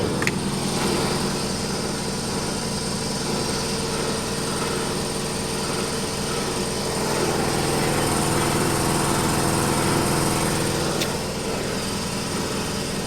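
Repaired workshop air compressor running steadily and loud on its own, a continuous motor drone with no pauses or talk, in a cold furniture-making shop.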